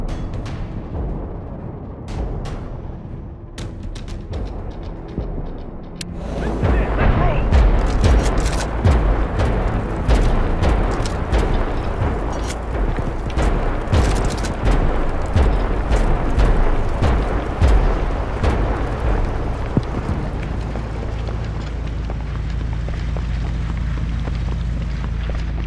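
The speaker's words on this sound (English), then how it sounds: "Artillery fire incoming." Artillery shells land in the World War 3 shooter, a deep rumbling barrage that swells after about six seconds into continuous booming and crackling impacts, loud and sustained with scattered sharp hits.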